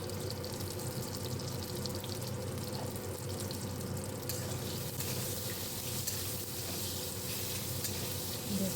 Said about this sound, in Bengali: সামান্য একটু লবণ আর হলুদ দিয়ে সব বেগুনগুলো ভাজছি।